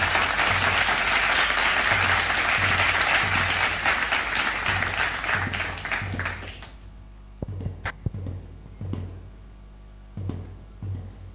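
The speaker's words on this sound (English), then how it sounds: "Let's give a thunder round of applause for the Blue House and their incredible spirit." A school crowd applauds the Blue House at a guard of honour and march past ceremony, with loud, dense clapping for about seven seconds before it thins out into a few scattered claps.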